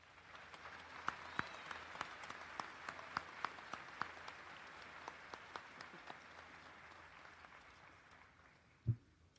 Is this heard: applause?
yes